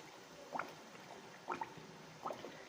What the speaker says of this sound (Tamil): இப்போ இதை நம்ம எண்ணெயில் பொரிச்சு எடுத்துக்கலாம்